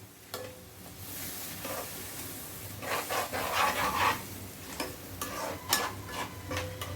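Tomato masala with garam masala and a little water sizzles and bubbles in a pan, a steady crackling hiss with occasional sharper pops and stirring scrapes, close and moderately loud.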